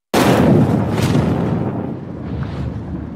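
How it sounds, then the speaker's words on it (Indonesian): A sudden, loud landmine explosion in a film bursts out and rolls into a long, rumbling decay of debris and noise. "terdengar suara klik, diikuti oleh ledakan keras"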